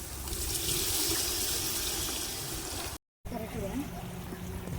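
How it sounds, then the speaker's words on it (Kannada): Water pours steadily into a pot of rice at an outdoor family camp in a garden, a continuous splashing stream that stops abruptly, followed by a brief gap and then a quieter trickle. "ಎರಡು ಬಟ್ಲು ಅಕ್ಕಿಗೆ 5 ಬಟ್ಲಷ್ಟು ನೀರನ್ನು ಸೇರಿಸ್ತಿದ್ದೀವಿ"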